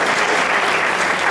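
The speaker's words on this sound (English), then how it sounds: "Let's clap for them." Audience applause at a talk on love and relationships, a dense steady patter of many hands clapping throughout, moderately loud and close with no voices over it.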